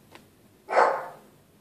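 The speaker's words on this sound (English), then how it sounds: "He barks at nothing." A single loud dog bark from a dog in an indoor hallway, sharp at onset and trailing off, preceded by a faint short sound and otherwise quiet.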